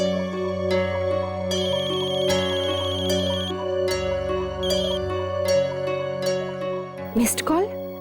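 A mobile phone ringtone plays as a repeated electronic melody through most of the moment, set in a Hindi TV drama household scene, with a short burst of other noise near the end.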